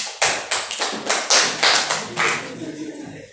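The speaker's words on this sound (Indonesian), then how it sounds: "beri tepuk tangan untuk kelompok ini" A classroom of students claps for a student group, a series of sharp, fairly loud claps in a ragged, roughly half-second rhythm that thins out and fades toward the end, with no talking.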